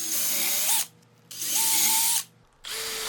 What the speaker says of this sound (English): now I'm gonna pre-drill these two in my vise to make it easier